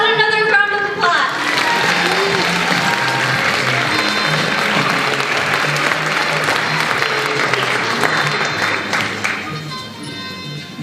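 Audience applause fills an awards show for a high school performing arts program, a dense, steady wash of clapping from a large crowd lasting about ten seconds before tapering off near the end.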